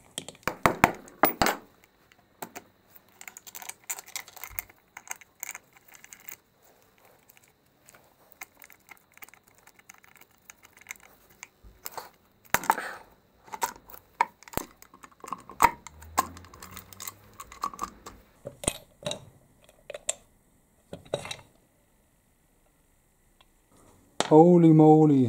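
Engine cover screws being unscrewed on an Aprilia RS 125 Tuono during engine disassembly, intermittent metallic ticks and clinks of tools and screws, with someone talking at times and a louder burst at the end.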